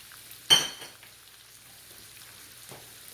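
Onions dropped into a hot pan for chicken pot pie, with one sharp sizzling burst at the start settling into a faint, steady frying hiss and a light clatter.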